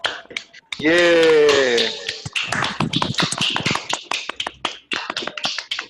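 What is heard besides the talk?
people clapping in an online meeting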